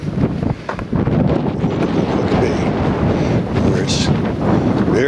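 Strong winter wind howls and buffets the microphone on a cold, very windy morning, a loud, continuous roar with gusty swells that never lets up across the whole stretch.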